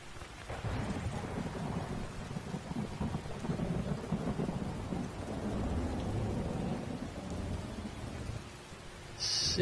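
A thunderstorm in Skyrim: steady rain hisses for the whole stretch as low thunder rolls and rumbles under it, fairly quiet overall, with no voices.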